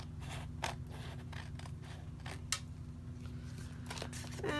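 Scissors trimming excess paper from a junk journal envelope pocket made with dictionary pages, a close run of repeated crisp snips over a steady low hum.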